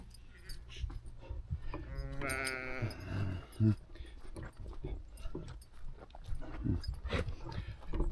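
Several sheep bleating close by, overlapping calls with a wavering tone amid rustling and movement, part of a milling flock.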